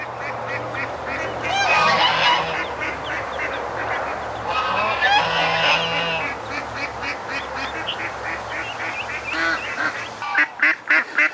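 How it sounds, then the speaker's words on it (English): Ducks, including ducklings, and geese honk and quack close by on a farm, a busy overlapping chorus of calls that grows louder in bursts, ending in a few sharp squawks. "So those are the little ducks in there, all cute and fluffy."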